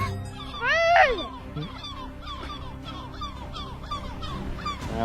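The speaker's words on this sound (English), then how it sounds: "That's one fat seagull." A seagull in the Minecraft video game squawks with a loud honking cry near the start, followed by a series of shorter, fainter repeated calls over steady background noise.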